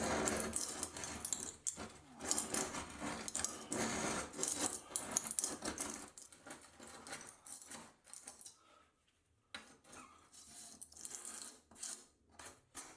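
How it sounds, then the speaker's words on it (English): A long-handled heavy duty scraper with a strong, sharp blade is forced across old tile adhesive while a damaged tile is being replaced. It makes loud, harsh, continuous scraping strokes that thin out into quieter, separate scrapes toward the end. "then I turn to a more heavy duty scraper to take out the rest"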